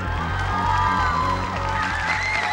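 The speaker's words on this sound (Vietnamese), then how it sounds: "cùng dành những tràng pháo tay thật lớn chào đón thí sinh và chúc mừng Nguyễn Duy" A Vietnam Idol studio audience cheers and applauds a contestant, with loud, sustained crowd noise and whoops running steadily over a musical backing.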